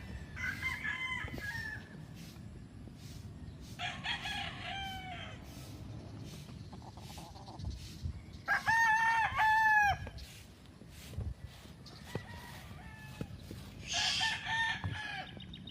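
Roosters crow several times in succession, loud and close, with long drawn-out calls rising over a steady farmyard background murmur.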